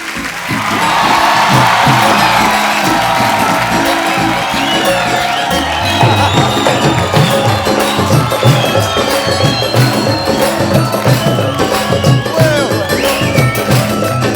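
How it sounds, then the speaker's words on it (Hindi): A studio comedy show audience claps and cheers loudly for a guest named Maan Sahab, a dense sustained roar of clapping, whoops and shouts lasting throughout, with music-like tones rising in the background. "जोरदार तालियां एक बार मान साहब के लिए।"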